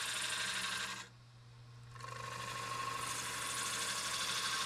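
A woodturning lathe hums steadily as a gouge cuts into a four-legged wooden bowl, giving a bright, hissing shear that drops away briefly, then returns at full strength.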